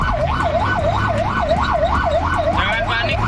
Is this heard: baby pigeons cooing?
no